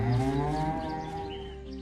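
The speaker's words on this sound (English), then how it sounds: "That's a fine cow you have there." A cow moos once in a long, low, drawn-out call, close and fairly loud, with no talk over it.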